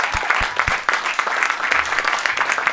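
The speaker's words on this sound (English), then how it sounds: "Let's give a round of applause for those guys." An audience claps for musicians who donated their time to an indie music spotlight event in Rochester, producing a burst of dense, steady applause.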